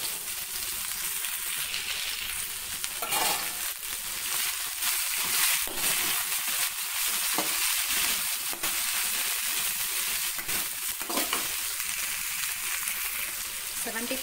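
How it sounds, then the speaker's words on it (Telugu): Cut okra (bhindi) fries in hot oil, giving a steady, loud sizzle and hiss that never lets up, with the occasional stir and scrape of the pan. "సెవెంటీ పర్సెంట్ కుక్ అయ్యేంత వరకు ఫ్రై చేసుకోవాలి."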